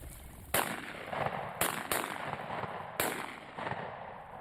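A side-by-side double shotgun fires during an Alabama quail hunt, four sharp reports at irregular intervals, two in quick succession, moderately near with outdoor ambience between shots.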